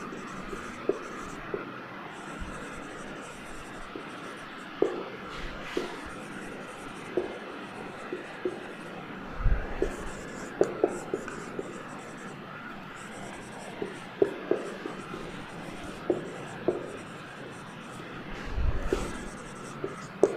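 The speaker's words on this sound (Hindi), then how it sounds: "चलिए मैं लिख देता हूं यहाँ पे" Writing on a classroom board during a Class 10 chemistry lesson on chemical reactions: a steady scratchy stroking runs through the clip with small taps, fairly close, with faint breathy voice sounds underneath.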